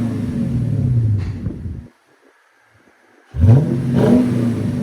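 A 2008 Lexus IS F 5.0L V8 with its muffler deleted revs hard and loud, drops to near silence for about a second and a half, then roars back with a deep, rising second rev that holds to the end.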